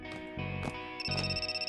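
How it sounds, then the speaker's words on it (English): A telephone rings with bright, repeating electronic tones in short bursts, heard close and loud with no talk over it, in an English-dubbed anime episode. "That's my phone."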